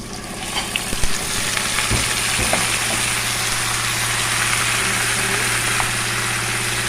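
Chicken pieces with ginger sizzle steadily in a pan, giving a continuous, fairly quiet hiss with a few small pops and clicks near the start.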